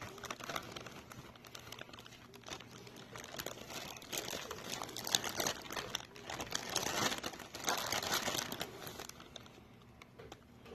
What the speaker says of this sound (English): Alright, so I'll just dump the whole cake mix in there.